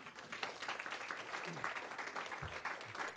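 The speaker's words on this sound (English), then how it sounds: "So clap it up for my team, please." Audience applause for a team, a quiet, continuous spatter of many hands clapping with faint voices murmuring underneath.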